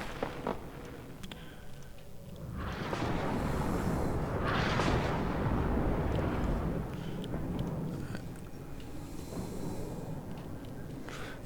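A Warno battle between French and US forces, with Bradley vehicles, tanks and Milan anti-tank missiles. Heavy rumbling explosions swell and roll for several seconds, with scattered distant gunfire cracks over a constant battlefield din.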